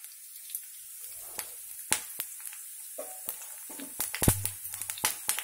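Mustard seeds, cumin, curry leaves and green chillies hitting hot oil for a tempering on thalimpu rotte, giving scattered sharp pops and crackles over a quiet background, close but fairly soft and growing busier toward the end.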